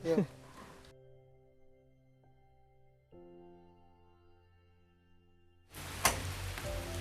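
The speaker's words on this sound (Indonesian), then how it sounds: "Ini ngomong-ngomong kayaknya cuaca mulai hujan nih Pak Gary." Rain beginning to fall outside a house in Dago, north Bandung, heard as broadband hiss at the start, then fading under a sustained tonal hum before a loud burst of downpour noise returns at the end.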